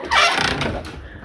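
A rooster or hen calls from a village cage holding roosters and hens, one loud, close squawk at the start fading into softer clucking.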